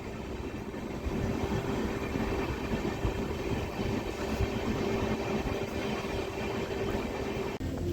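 A mail express train pulls into Kumarghat halt with a steady, close rumble of wheels and carriages, an even rolling drone that holds throughout with no voices.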